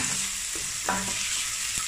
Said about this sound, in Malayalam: നമ്മുടെ സവാള വഴണ്ട് വന്നിട്ടുണ്ട്, അതിലേക്ക് നമുക്ക് എടുത്തു വച്ചിരിക്കുന്ന പച്ചമുളക്, വേപ്പില ചേർത്ത് കൊടുക്കുക.